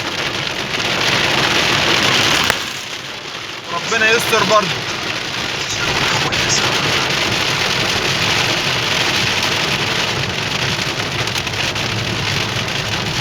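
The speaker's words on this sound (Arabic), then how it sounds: "سامعين ده صوت المطر." Heavy storm rain pours down in Saudi Arabia, heard from a moving car as a dense, steady hiss that lasts the whole clip. Someone speaks briefly over it near the start.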